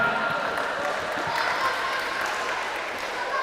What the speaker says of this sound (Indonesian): Tepuk tangan untuk Infosumbar.